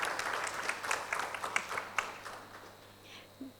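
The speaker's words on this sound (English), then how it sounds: "round of applause for Kanika" Audience at an entrepreneurship conference claps for a speaker being introduced, a short burst of applause that fades after about two and a half seconds, moderately loud, with a brief voice sound at the end.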